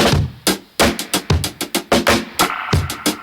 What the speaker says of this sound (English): I sampled a drum break